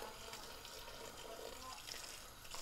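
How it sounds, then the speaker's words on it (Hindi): Water pours steadily into a cooking pot holding an aloo mutton gosht (meat and potato curry) before it is pressure cooked, a continuous close splashing gush lasting a few seconds with no talk over it. "ये चला गया इसमें पानी।"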